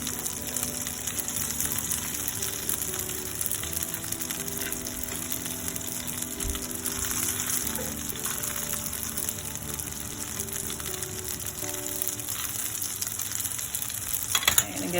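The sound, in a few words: gnocchi browning in a frying pan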